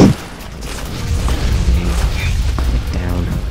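Shotgun blast in the game Fallout New Vegas: one sharp loud boom at the start, then a voice talking continuously over low game noise.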